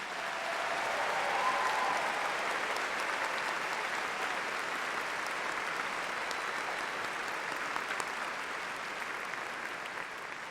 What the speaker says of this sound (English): Would you join me in giving a round of applause to our musicians?